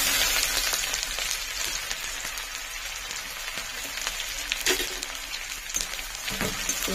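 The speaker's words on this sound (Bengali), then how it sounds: "পেঁয়াজটা একটু ভেজে নেব।" Onion fries in a pan with cardamom for egg tehari. The oil gives a steady, soft sizzle and crackle throughout, with occasional louder pops and light stirring.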